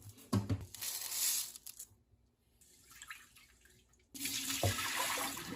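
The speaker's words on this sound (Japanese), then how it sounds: "水でザザッと洗い、タッパに入れてきれいな水を入れておきます" White rice rinsed by hand in water for a camp seafood rice dish, with close sloshing, splashing and running-water sounds in bursts, a brief quieter pause midway, then renewed vigorous washing.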